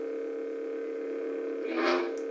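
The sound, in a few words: lightsaber sound font colour change effect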